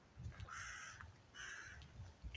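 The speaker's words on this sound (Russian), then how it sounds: "Вороны как-то каркают." Crows cawing outdoors near an alley in an old town, with a factory and tall chimney nearby: two drawn-out, harsh caw bursts at moderate distance over faint background rumble, no talking.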